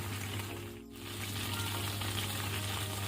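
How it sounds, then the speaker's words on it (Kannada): Potatoes fry in oil for a prawn curry, giving a dense, steady sizzle close by that dips briefly near the start and then carries on evenly, with a low hum under it. "ಆಲೂಗಡ್ಡೆ ಸಹ ಫ್ರೈ ಆಗಿದೆ, ಸಾಕು."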